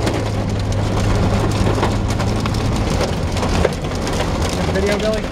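Dense, steady clatter of dime- to quarter-size hail pelting a storm chase vehicle during a core punch, loud and continuous throughout with a droning engine hum beneath, and no clear talk.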